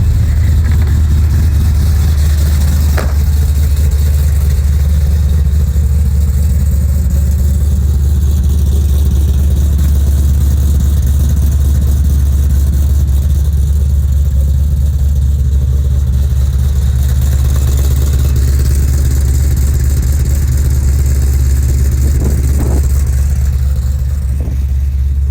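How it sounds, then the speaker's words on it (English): A 1989 GMC Sierra SLE C3500 dually with a 502ci V8 idles steadily outdoors, its deep low rumble running through a MagnaFlow muffler with the exhaust dumped just ahead of the rear axle, with no talk. "It's got a great sound to it, this motor. We're gonna walk outside, take a listen."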